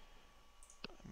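A single soft computer mouse click sounds faintly and very close, a brief tick against a quiet hum, with a little faint rustle just after it.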